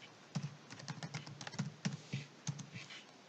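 Keys clatter on a computer keyboard as a command is typed, in quick irregular bursts of close, crisp clicks with short pauses between them and nobody speaking.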